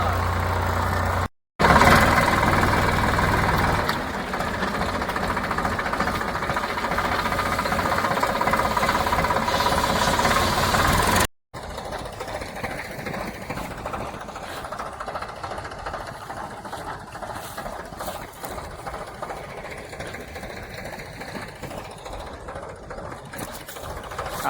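A tractor engine idles steadily in a rural farm setting where a tractor line is being loaded with fodder, giving a continuous rough chugging drone that runs throughout with brief dropouts and no clear talk.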